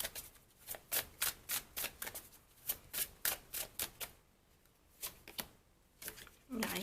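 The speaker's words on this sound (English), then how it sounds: "So let me pull some cards for you too" Tarot cards drawn and slapped one after another from a deck during a weekly reading, a quick string of crisp, close card snaps in irregular clusters with short pauses between them.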